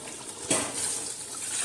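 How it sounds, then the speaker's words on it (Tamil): Water poured into parboiled rice in a pot while making chicken biryani, a steady close trickle and gush that keeps running without a pause after a sudden start. "இந்த டைமில் தண்ணி ஆட் பண்ணிக்க வேண்டியதான்."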